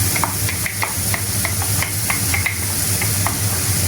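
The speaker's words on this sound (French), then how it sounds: "Donc là, on va rajouter l'ail que j'ai émincé." Minced garlic hits mushrooms frying in a pan for a creamy mushroom sauce, giving a steady close sizzle with light scraping and stirring taps throughout.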